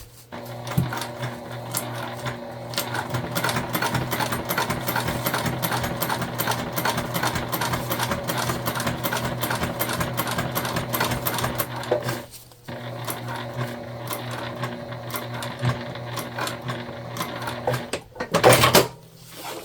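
A sewing machine stitches a zipper into a fabric pouch being turned into a crossbody bag, running in a steady rapid whir close by, pausing briefly partway, then resuming before a short clunk near the end.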